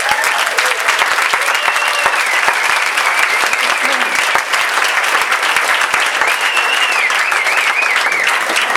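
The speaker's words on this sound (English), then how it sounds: "A big round of applause for Debbie." Sustained applause from a comedy club audience at the Addison Improv as a comedian takes the stage, dense steady clapping lasting the whole stretch at even loudness, with a few voices mixed into the crowd.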